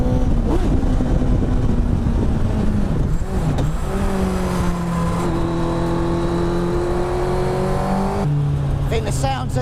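Honda CBR1000RR engine screaming at around 10,000 rpm on a road test drive, a loud continuous high-revving drone with rising and falling pitch as it shifts, wind roar throughout.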